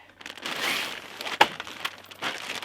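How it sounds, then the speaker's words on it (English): Close-up crinkling and rustling of a plastic bag holding a foldable pop-up fire pit being handled, with bursts of crackle and one sharper crunch partway through. "Comes in a nice plastic bag."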